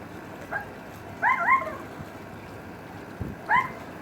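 A few short, high whining yelps come in brief bursts, separated by pauses, over a steady low background hiss.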